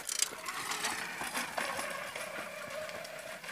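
A Babetta 207 moped engine starts up, giving a steady buzzing, clattering mechanical whir close to the listener that runs without a break and without talk.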